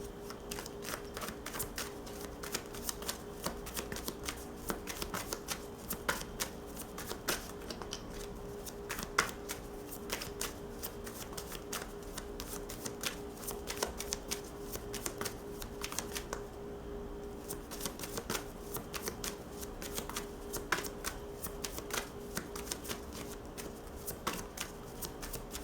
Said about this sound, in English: This deck does not want to shuffle today.